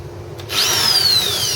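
An electric hand drill spins up after a quiet moment and keeps whirring steadily, its pitch slowly falling, close by.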